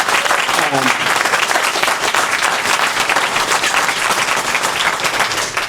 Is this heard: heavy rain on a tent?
no